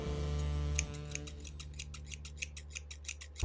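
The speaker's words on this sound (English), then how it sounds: "I'm going to cut it at an angle." Scissors snip through a wig at an angle, a steady run of about a dozen crisp, close cuts over a low background hum.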